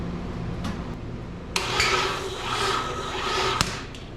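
A starter slowly and weakly cranks the engine of a 1955 Chevy, a low, labored churning with a couple of sharp clicks or clunks at the start and finish, close by and with no talk.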